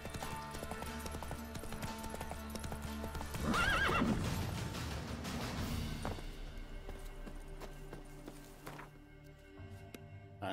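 A horse in The Witcher 3 neighs loudly with a rising, wavering whinny a third of the way in, amid rhythmic hoofbeats of galloping, then the hooves fade toward the end as the ride quiets and slows.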